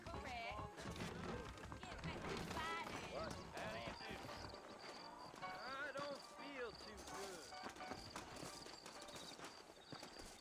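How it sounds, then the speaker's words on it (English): Horse hooves clip-clop in the Red Dead Redemption video game, a rhythmic patter of several horses at a walk set beneath ongoing dialogue and a background score, with an occasional whinny. "I got the horses saddled up and ready out front."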